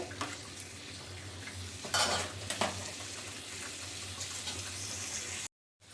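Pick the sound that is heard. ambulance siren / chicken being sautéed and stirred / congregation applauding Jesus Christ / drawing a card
chicken being sautéed and stirred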